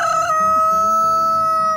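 A rooster in a chicken coop lets out a single loud, close crow lasting under two seconds, holding steady and then trailing off.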